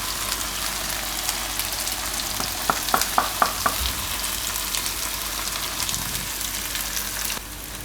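Cauliflower and pea curry sizzles steadily in a pan on a gas stove, with a short run of clicking scrapes from stirring about midway before the frying hiss continues alone.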